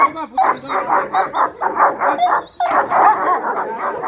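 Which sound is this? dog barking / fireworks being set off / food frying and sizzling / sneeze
dog barking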